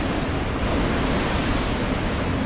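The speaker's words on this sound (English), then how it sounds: "he can shoot water forward very quickly" A boss in Dark Souls II shoots a forceful jet of water, a loud, steady rushing and hissing gush that fills the whole stretch without pause.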